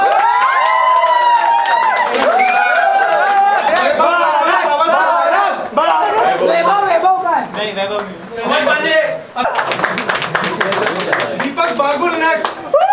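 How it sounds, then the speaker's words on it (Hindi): An audience at a Mumbai film academy event, with clapping and cheering heard underneath a loud announcer and lively crowd chatter and shouting, the applause mostly masked by voices. "भरत विमल नेक्स्ट, ताली हो जाए प्लीज।"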